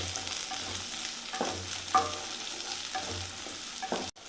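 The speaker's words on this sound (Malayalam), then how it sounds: "ഒട്ടും വെള്ളമയം വരാതെ നന്നായിട്ട് ഇത് മൂപ്പിച്ചെടുക്കണം" Garlic and whole kanthari chillies fry in hot oil for prawn pickle, giving a continuous close sizzle with occasional stirring scrapes and clinks against the pan.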